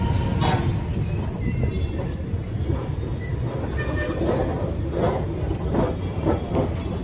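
A metro train runs through Chennai Central station, its continuous low rumble and rolling clatter steady throughout, with faint station noise on top and no talking.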